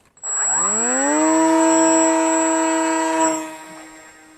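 An electric RC airplane fitted with a Radiolink Byme-A flight controller is launched, its motor winding up sharply into a loud, steady high whine that lasts about three seconds before fading as it flies away.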